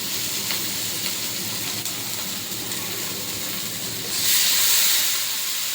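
Chili and spices frying in a pan for a Bangladeshi egg curry, a steady close sizzle and hiss that swells louder toward the end as more moisture hits the hot oil, with no talking.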